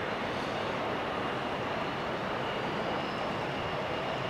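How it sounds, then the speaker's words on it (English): A passenger airplane's engines roar steadily at Amsterdam Schiphol Airport, runway 18L, on a rainy day, a broad continuous rumble without a break and with no voices. "We also have an airplane ready to go at 18L already."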